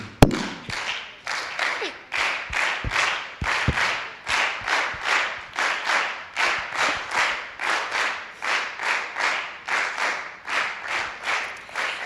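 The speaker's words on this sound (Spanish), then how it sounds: "vamos a hacer palmas" At a community event launching Afro-descendant heritage month, a group claps hands in a steady beat to accompany a song, crisp evenly spaced claps repeating loudly and continuously, with no other voices.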